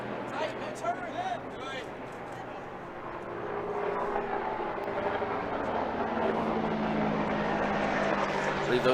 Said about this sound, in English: I believe those are Apache helicopters